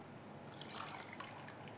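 Water runs into a pot for boiling rice with a soft, steady trickle and faint splashing, quiet and continuous throughout.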